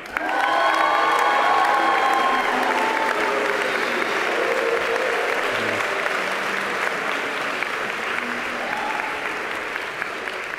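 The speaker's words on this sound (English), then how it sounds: "they're not booing, they're wooing" A graduation commencement audience applauds steadily and loudly for about ten seconds, with whoops and cheers rising through the clapping, which stays dense and close throughout.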